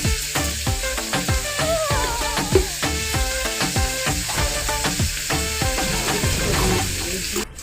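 Potatoes with turmeric and chilli powder sauté in a pan for aloo dum, giving a steady close sizzle broken by regular scraping strokes of a spatula, one after another.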